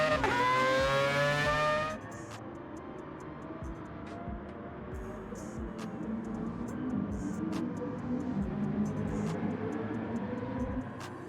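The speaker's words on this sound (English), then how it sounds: "The howl of the rotary engine." Sustained rotary engine howl from a race car in a racing video game at Fuji circuit, a steady loud drone running throughout after a brief burst of commentary at the start.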